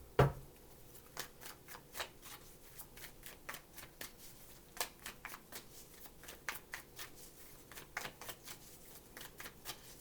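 Tarot cards being shuffled and handled by hand, giving a steady run of soft, quick riffling and flicking sounds, close and quiet, with no talking.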